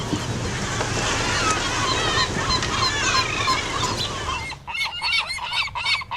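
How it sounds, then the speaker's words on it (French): Gulls calling on a fishing harbour, a dense flock of harsh honking cries over lapping water and boat noise, loud and continuous before thinning to a few close squawks in quieter air. "Ces saletés de mouettes, elles vont me pourrir le linge"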